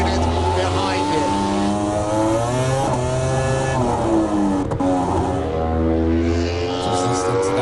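Honda MotoGP racing motorcycles scream past at high revs, their engines rising and falling in sweeping pitch, loud and close, with commentary talk running over them.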